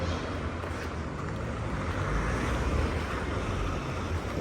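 Steady road traffic rumbles past at a street crossing, a continuous low broadband roar with wind buffeting the microphone throughout, no voices heard.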